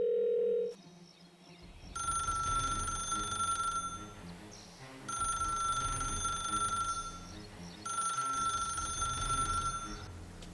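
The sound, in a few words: telephone ringing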